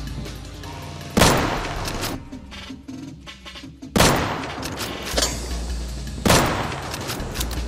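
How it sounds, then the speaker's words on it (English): Gunfire in the video game Deadside: three sharp, loud shots spaced a few seconds apart, each followed by a long ringing echo tail, with quieter clatter between them. "That was my two shots"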